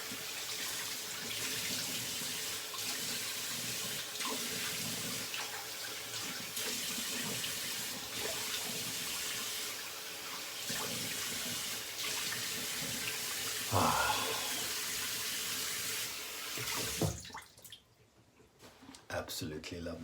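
A bathroom tap runs steadily into a sink for rinsing after a wet shave, a continuous hiss with faint splashes that cuts off near the end, leaving a quieter room.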